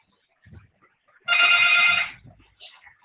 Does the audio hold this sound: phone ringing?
yes